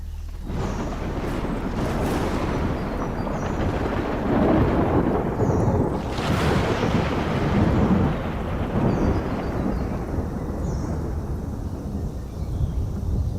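Thunder rumbles continuously over steady rain in a storm, loud and sustained, building into a louder crack partway through with no voices.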